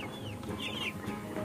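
About thirty backyard broiler chickens clucking, soft overlapping clucks and chirps close by in a brief burst.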